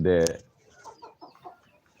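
Local free-range hens cluck softly in a few short, faint calls nearby, following a brief loud squawk at the start.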